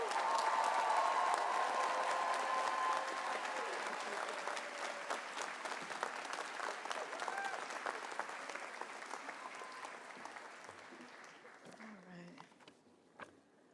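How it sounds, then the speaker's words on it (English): A commencement crowd applauds loudly at first, the clapping gradually thinning and fading over several seconds with a few voices underneath. "please send her off with gratitude and another loud round of Bunker Hill applause"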